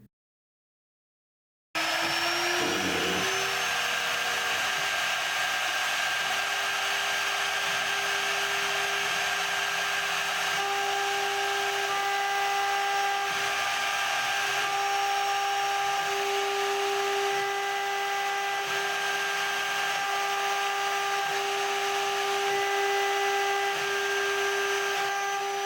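A CNC mill cuts 1018 cold rolled steel with a small 1mm four-flute coated carbide end mill, a steady high whine of the spindle with faint tonal cutting chatter, continuous and fairly close after a brief silence.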